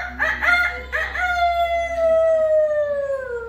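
A person mimics a rooster's crow, two short rising calls followed by one long drawn-out note that slowly falls, close and fairly loud in a quiet room.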